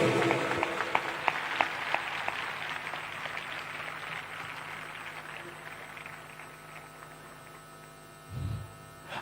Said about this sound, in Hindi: अब इससे अच्छी सबसे ब्यूटीफुल ताली दीजिए यीशु मसीह को